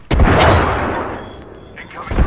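Gunfire blasts and a grenade-style thud in an Apex Legends-style shooter game: a heavy boom opens, then a rumbling decay, with another sharp burst at the very end, loud and close.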